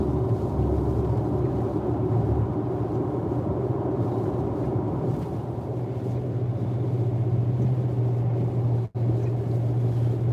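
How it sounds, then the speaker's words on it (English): A Tesla electric car rolls over a rough road, giving a steady loud low rumble and road roar inside the cabin, with a brief dropout near the end and no talking. "Ooh, this is a rough road."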